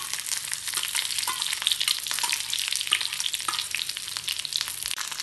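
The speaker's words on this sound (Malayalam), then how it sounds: "ഇത് ഇടത്തരം വലിപ്പമുള്ള ഒരു ഉള്ളി കുറച്ച് വലിയ കഷ്ണങ്ങളാക്കി മുറിച്ചതാണ് ഇത് ചേർക്കാം" Large-cut pieces of a medium onion fry in hot oil in a pan for shahi paneer, giving a steady, close sizzle with faint crackles and no talking.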